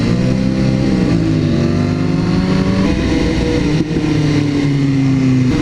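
A Ducati motorcycle's engine revs loudly and close in traffic, its pitch climbing and falling in sweeps over a steady road roar.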